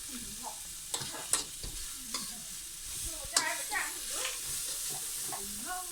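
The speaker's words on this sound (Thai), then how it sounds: "เราต้องผัดผัดก่อนใช่ไหมครับ ถึงจะเอาผักใส่" Food is stir-fried in a pan before vegetables go in, giving a constant sizzle and hiss with irregular scraping strokes, while voices murmur faintly in the background.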